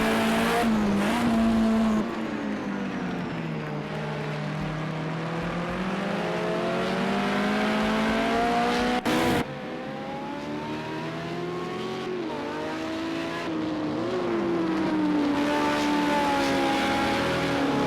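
Race cars in Project Cars 2 at the Fuji circuit, engines revving and shifting continuously at close range with tyre squeal, loud and sustained with no talking.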